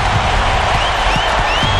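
Arena crowd in a basketball video game roaring and buzzing after a dunk, a steady dense wash of cheering and applause with no break, loud and close throughout.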